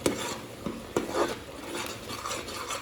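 Korma paste cooking in oil in a pan, giving a low, steady sizzle with a few clinks and scrapes of a spoon against the pan, close by and without talk.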